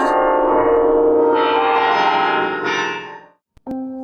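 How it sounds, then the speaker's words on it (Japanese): Large church bells peal from the Gothic twin-towered St. Michael's Cathedral in Brussels, a dense, resonant ringing sustained for several seconds before fading, then a brief clack and a lower tone near the end. "鐘が鳴り響き出しました。"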